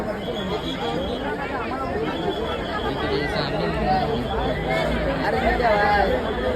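Crowd chatter at a palkhi procession in Apta Koliwada, a dense babble of many overlapping voices close by, steady and lively throughout with no single speaker standing out.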